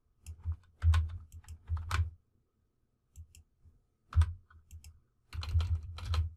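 Computer keyboard typing while entering HTML code, close and crisp, in three bursts of quick clicking keystrokes separated by brief pauses, with no talking.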